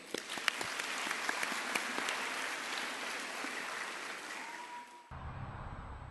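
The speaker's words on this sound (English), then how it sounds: "Please give a round of applause to the senior students of our school." A school opening-ceremony crowd gives a long, steady round of applause for the senior students' traditional dance act, sustained clapping that cuts off abruptly near the end.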